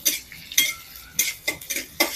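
Chopped ginger, green chili and garlic fry in hot oil, heard mainly as a spoon or spatula clinking and scraping against the pan in short repeated strokes over a faint sizzle.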